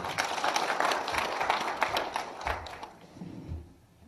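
An audience at a small business forum applauds in a dense burst of clapping that fades toward the end, leaving a few scattered claps and faint murmuring.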